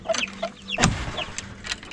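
Chickens cluck in short, bright bursts close by inside a chicken tractor on a small farm, a few birds calling over one another with one louder squawk partway through.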